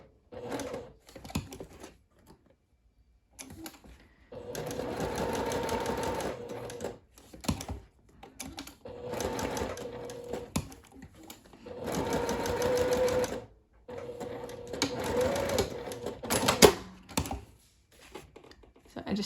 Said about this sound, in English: I just sewed an X in there to make sure it's nice and secure.